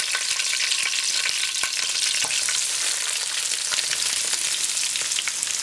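Chopped onions and curry leaves frying in hot oil for fish ambot tik, a dense continuous crackling sizzle with occasional stirring scrapes, steady and close throughout.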